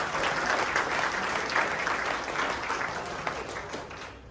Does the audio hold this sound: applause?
yes